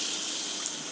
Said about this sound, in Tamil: நம்ம ஒரு 1/2 டம்ளர் தண்ணி விட்டு காய்ச்சிக்கலாம்